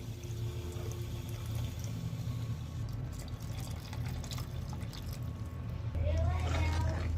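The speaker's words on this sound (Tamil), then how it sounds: "இது கூட நாம எடுத்து வச்சிருக்க புளி கரைசல் ஆட் பண்ணிடலாம்." Tamarind water pours and splashes into a fish curry in a pan, a steady close liquid trickle that swells louder near the end, with a voice speaking over it.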